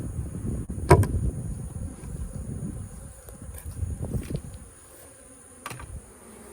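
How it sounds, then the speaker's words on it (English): Honey bees buzzing around a hive during a summer inspection in a nectar dearth, a close, uneven hum with a few sharp knocks and handling bumps, loudest early and then settling to a softer drone. "look at these bees right here"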